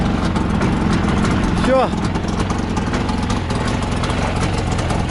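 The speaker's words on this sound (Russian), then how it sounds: "Снегоход завелся." A Yamaha snowmobile engine runs at a steady, rumbling idle close by just after starting, with someone speaking briefly over it.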